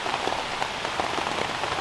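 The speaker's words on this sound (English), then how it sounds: "But it's raining now and I'm getting wet" Rain pattering steadily on a camping tarp during a thunderstorm in a river gorge, a dense, loud, continuous drumming of drops close overhead with no talking.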